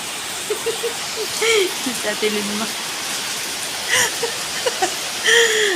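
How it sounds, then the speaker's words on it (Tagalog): Heavy rain pouring steadily outside an apartment, a loud dense hiss throughout, with a voice speaking and laughing over it. "Lakas ng ulan. Ulan pa more. Walang katapusang, katapusang ulan."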